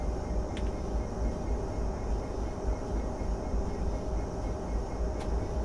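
Diesel rumble of a DRS Class 66 locomotive on a stock move in Train Simulator 2015, a steady loud low drone continuing throughout with a faint high tone briefly near the start and end.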